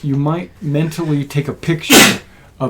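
A single sharp sneeze bursts out near the end while a person is talking, loud and close.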